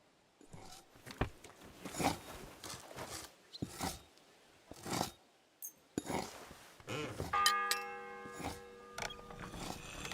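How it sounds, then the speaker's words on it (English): A church bell tolls once in Kingdom Come: Deliverance 2, its sustained ringing tone swelling near the end after a stretch of scattered footsteps and soft movement. "The first bell."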